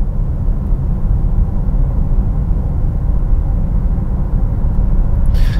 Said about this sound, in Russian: Сейчас едем 70 км в час, 69. Давайте померяем шум на такой скорости.